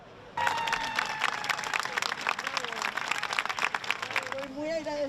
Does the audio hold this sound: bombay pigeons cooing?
no